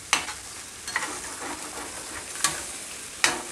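Masala and chaap fry on a hot tawa at an Ahmedabad street fry stall, a continuous sizzle broken by four sharp metal spatula scrapes and clinks against the griddle.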